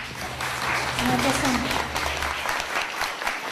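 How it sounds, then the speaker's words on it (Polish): An audience claps in a hall in Lublin, steady applause running throughout with a low hum underneath and a voice faintly present. "To były oklaski dla Pani. To są oklaski dla Pani"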